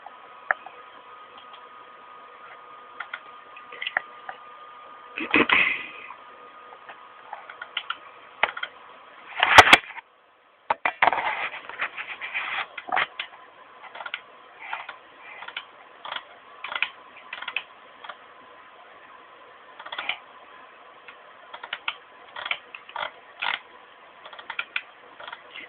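The scroll wheel of a computer mouse clicks in scattered, rapid tick runs, faint and close against a low hum, with a few louder bumps, and no one talks.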